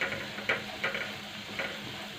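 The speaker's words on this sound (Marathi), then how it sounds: "आपल्याला छान प्रकारे परतून घ्यायचं आहे" Sliced bitter gourd sautéed and stirred in a pan, a quiet continuous sizzle broken by a few light scraping stirs at irregular intervals.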